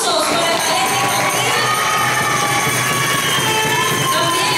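A large crowd at a beauty gala opening, Mini Venezuela Mundo 2014, cheers and shouts for a ballet troupe, a loud continuous roar of voices and high whoops, steady and dense with no break.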